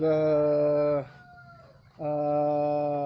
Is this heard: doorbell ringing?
no